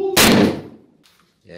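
A single loud, sharp gunshot fired at level 3A bulletproof glass cracks close by, its blast dying away quickly, followed by brief faint noises.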